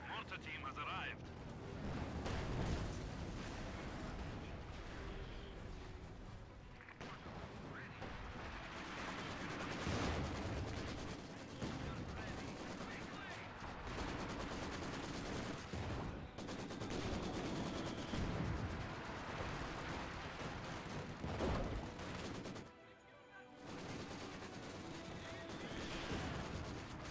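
Dense video game battle with mortar blasts and rattling gunfire rolling on almost continuously, loud and crowded, with players talking over it throughout.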